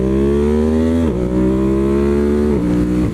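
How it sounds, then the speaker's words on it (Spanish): A 2023 Ducati Monster motorcycle accelerates hard through a curve, its engine loud and close with a steady rising roar that dips briefly at two gear shifts before climbing again, no voices. "De hecho, ahí iba yo en la curva acelerando."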